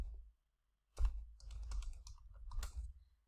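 Someone types a password on a computer keyboard. After a brief silence come close, quiet bursts of key clicks in an uneven rhythm.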